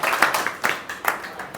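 A short burst of audience clapping, many hands beating fast and fairly close, steady and lively for the whole moment without any voices over it.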